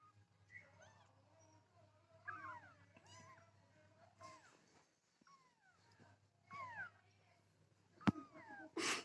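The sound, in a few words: black kitten meowing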